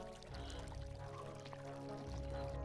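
Water flowing and pouring steadily in the video game CityWar Beyond, a constant, moderately faint rushing stream with no speech.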